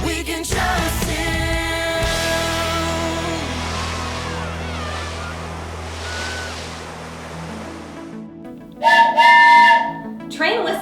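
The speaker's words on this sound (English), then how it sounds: "Train whistles are big and bold because they have important messages to communicate." A bold train whistle sounds in short tonal blasts, one at the start and a louder burst near the end. Steady rushing noise fills the gap between them.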